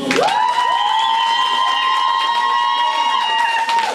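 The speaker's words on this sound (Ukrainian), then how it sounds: "ми ну ще раз хочемо почути оплески Максиму" A school karaoke audience cheers and applauds, with a sustained high shout or whistle riding over a dense, steady roar of clapping and voices that holds loud throughout.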